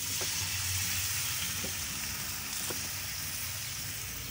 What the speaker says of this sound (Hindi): अब हम ना सिर्फ 1 गिलास पानी ऐड करेंगे इसमें